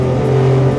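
A Le Mans-winning Porsche 962 race car engine drones loud and close with a steady, buzzy tone under throttle, heard from inside the car.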